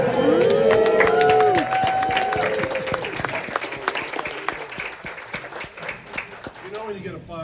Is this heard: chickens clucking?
no